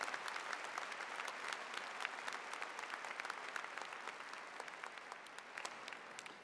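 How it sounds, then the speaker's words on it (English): Commencement crowd applauding student musicians at the back of a university arena, sustained, even applause that sounds distant and fairly quiet, with scattered sharper claps. "Can we also give a round of applause to our student musicians at the back of the arena who have provided the music for today's event?"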